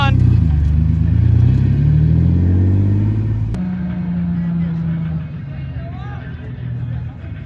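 Turbocharged, built Nissan G35 engine revving at a race day, a loud deep rumbling drone that rises and falls near the car, with crowd babble and voices mixed in underneath.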